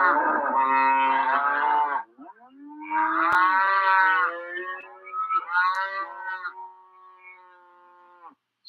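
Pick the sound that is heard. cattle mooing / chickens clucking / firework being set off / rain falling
cattle mooing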